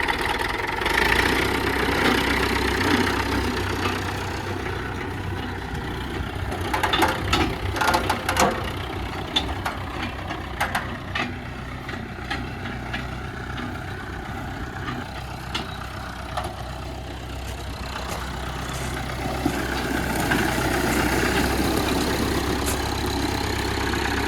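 An International A414 truck's engine idles steadily after starting from a recharged battery, a continuous low rumble with occasional mechanical clatter and knocks, fairly close and alone.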